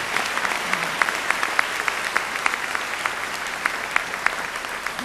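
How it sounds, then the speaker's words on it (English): A university commencement crowd at UTPA gives sustained, even applause for the parents in the audience, a thick continuous patter of many hands with occasional sharper claps standing out, with no voices. "let's all give a rousing applause to the real heroes of this day,"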